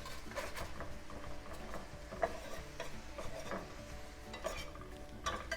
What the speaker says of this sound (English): so we're gonna keep whisking.